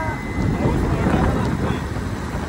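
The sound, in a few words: strong wind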